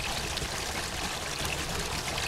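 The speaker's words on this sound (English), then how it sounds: "this water is blocking the way down" Flowing water in the Surface 3: The Soaring City adventure game, a steady broadband rush like a stream or pouring spout blocking a path downward, continuous and even throughout with no talk.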